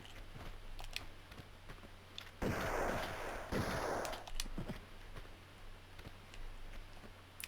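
A single enemy gunshot in the video game Tomb Raider II, a sharp burst with a noisy tail lasting about two seconds amid quiet game ambience.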